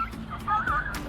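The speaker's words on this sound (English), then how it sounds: "There's a rooster at Palmero Toyota." A rooster at a Toyota dealership lot lets out a short, rough crowing call, fairly close and loud over outdoor background noise.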